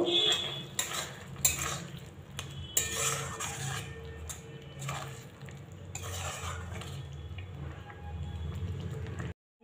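A spoon stirs soya chunks and spinach curry in a pan after lemon juice is added, giving repeated close scraping and clinking strokes over a soft, steady sizzle.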